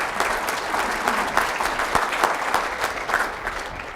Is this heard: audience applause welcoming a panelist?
yes